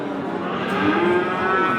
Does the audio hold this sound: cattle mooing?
yes